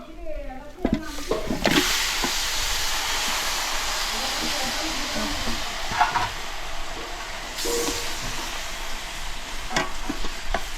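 Chicken drops into a hot pan of spices and turmeric, giving a sudden loud sizzle that holds steady with scraping stirs and clanks, while a person talks over it.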